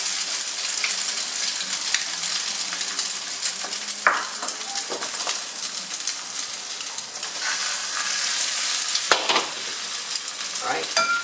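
Beaten eggs sizzle and crackle in hot oil for an oyster omelette, a continuous close frying hiss with occasional clinks and scrapes of a utensil stirring in the pan.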